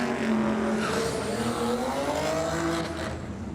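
Drag racing cars, including a quick BMW wagon, run down the strip at Sydney Dragway with a loud, sustained engine roar and rising, shifting pitch throughout.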